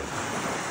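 Sea surf on the coast at Kunigami in northern Okinawa, a steady broad wash of breaking waves mixed with wind rumble on the microphone, loud and continuous with no talk.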